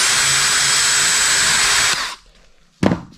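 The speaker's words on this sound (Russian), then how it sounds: "Можно использовать просто сверло тонкое." A small drill with a thin bit whines loudly at high speed for about two seconds, then stops, followed by a short sharp clatter, during installation of a sink under a countertop.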